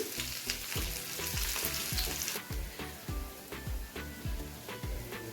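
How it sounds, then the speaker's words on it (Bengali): Onion frying in a pan with a pinch of salt added to soften it, a steady close sizzle with repeated rhythmic stirring strokes of a spatula throughout, no voices. "পেঁয়াজটা যাতে তাড়াতাড়ি নরম হয়ে যায়, তো তার জন্য আমি দিয়ে দিচ্ছি সামান্য পরিমাণে একটু নুন।"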